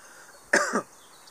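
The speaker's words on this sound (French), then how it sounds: "ça me fait tousser" A single short cough, close and fairly sharp, breaks a quiet room background before silence returns.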